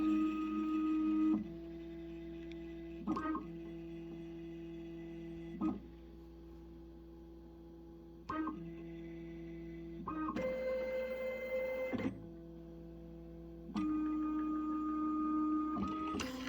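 A Matrix Filler Wizard filling machine runs a cycle: a steady motor whine switches between tones in distinct stages, with clunks and clicks at each change, close and without any talking.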